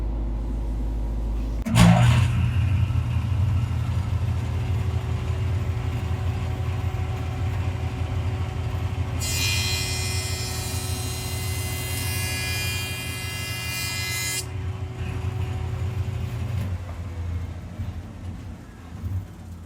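Woodshop jointer starts with a thump and settles into a steady motor hum, then a loud, harsh cutting roar as a board is fed through for several seconds before dropping back to the idle drone and spinning down.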